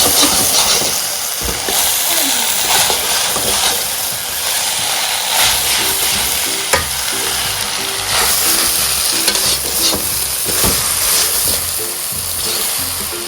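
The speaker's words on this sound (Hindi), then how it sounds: "और green pepper, red pepper and carrot. अच्छे से मिक्स करें आप।" Chow mein being stir-fried with green pepper, red pepper and carrot, a loud continuous sizzle and hiss with repeated scraping and tossing strokes of a utensil in the pan throughout.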